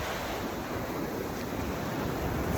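Ocean waves at a beach on a rough day, a dense, continuous roar of surf mixed with wind buffeting the microphone, loud and close with no speech.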